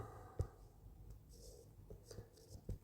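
A formula for the Minkowski inequality is written out by hand in faint, scratchy strokes, with a few sharper taps and short pauses between the marks.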